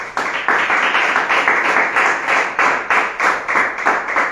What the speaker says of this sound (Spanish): Un aplauso a Dios, hermanos.